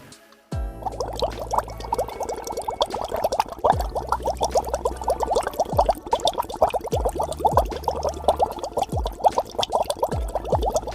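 A whole bottle of ginger ale glugs steadily into a bowl of punch, a continuous close, loud gurgling pour with rhythmic bubbling bursts lasting the full stretch, no talking over it.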